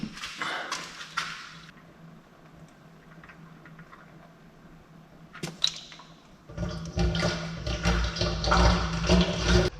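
Coolant drains back out of a Mazda Miata's cooling system during a thermostat and Moroso expansion tank install, trickling and splashing nearby before swelling into a louder, steady gush.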